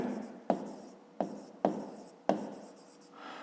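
Pen writing an answer into a fifth-grade math exercise book, four crisp taps and scratchy strokes spaced evenly apart, close up and clear, with no talking.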